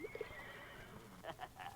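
A horse whinnies in a dramatized 1958 Tom Thumb story recording, with a short high neigh at the start and a few louder whinnying bursts near the end, set against a busy background.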